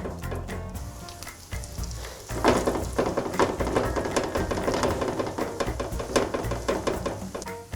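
Zucchini fritter batter sizzling in olive oil in a pan, a quieter crackle that jumps to a loud, steady, close-up fry as a scoop of batter lands and is pressed down.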